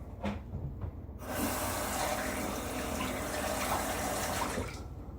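A tap runs steadily into a sink for a few seconds to rinse a shaving razor, a close, full rush of water that starts abruptly and then cuts off, with nobody speaking.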